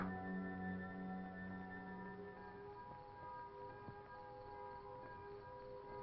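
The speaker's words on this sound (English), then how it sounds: "the curfew bell tolled its warning" A distant curfew bell tolls over hillside country at nightfall, its long ringing hum and overtones sustained and slowly fading, faint and far off with no voices.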